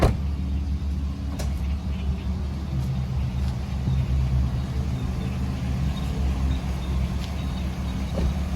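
A Toyota Vios 1.5E engine runs steadily with a low, even rumble and hum, heard up close with the hood open, with occasional faint clicks.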